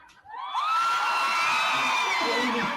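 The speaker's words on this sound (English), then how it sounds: "prompting huge cheers from the crowds in Tel Aviv" Crowds in Tel Aviv erupt in loud, sustained cheering with whoops and high shouts rising over a murmur, swelling quickly and holding steady for a few seconds.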